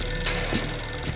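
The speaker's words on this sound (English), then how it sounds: "The phone ring." A telephone rings inside a hotel-room setting in the horror video game Outlast Trials, a steady bright tone under a constant electronic hum and low game ambience, with no talk.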